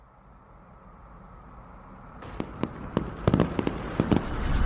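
Fireworks burst in a quick irregular series of sharp cracks and pops, starting after a rising hiss and growing denser and louder toward the end, with no voices.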